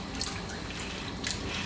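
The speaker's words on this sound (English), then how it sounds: "I'm just rinsing it out. Let's give it a good little wash down," Running tap water rinses out a bowl at a kitchen sink, a steady close splashing stream with a couple of brief brighter spurts, no voices.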